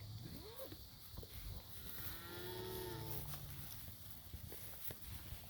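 A cow moos outdoors in a pasture, one long, drawn-out low call near the middle, with faint hoof steps and quiet background noise around it.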